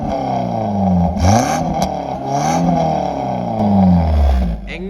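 A Maruti Alto VXi petrol hatchback engine revved hard up close, its pitch climbing and falling in several repeated swells over a steady idle, with no talking.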